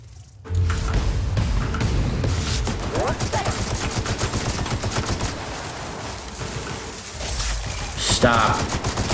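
Assault rifle fire in The Outer Worlds rattles in long, rapid bursts through most of the stretch, loud and close, mixed with other combat noise and occasional voices.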